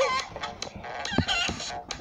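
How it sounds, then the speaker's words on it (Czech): Minecraft chickens cluck in a steady run of short, choppy calls with a brief squawk, fairly loud and close in an Easter-themed game session. "Hej, to jsou ty slepice"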